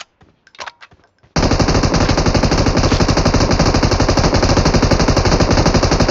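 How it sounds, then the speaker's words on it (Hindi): Rapid automatic gunfire rattles continuously and loudly after a brief quiet moment with a few faint sounds, a sustained burst of game-style machine-gun fire. "डब्बे को गोलियां मार रहा हूँ"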